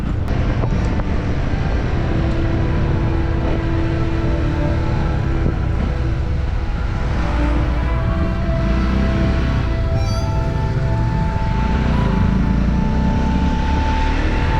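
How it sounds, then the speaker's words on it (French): A drone climbs and flies overhead outdoors, a continuous loud droning hum with wind buffeting across the whole stretch, no voices. "j'ai monté le drone dans les airs"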